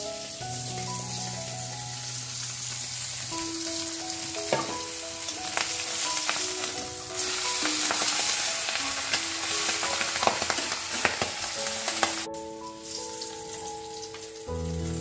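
Food frying in a pan while squash and potato curry is cooked, with a steady close sizzle and crackle throughout, scattered stirring clicks over a faint hum of music or household sound.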